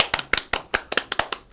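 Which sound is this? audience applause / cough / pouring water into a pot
audience applause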